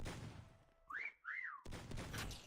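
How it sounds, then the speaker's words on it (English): A loud two-note whistle in the Meccha Chameleon video game, two rising-and-falling tones back to back, sounding over busy game noise and rumble. "That's a very loud whistle."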